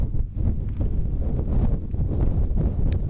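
Strong wind gusts sweep across the wild, rocky causses of Lozère in autumn, a loud, close buffeting roar against the microphone that swells and eases without pause.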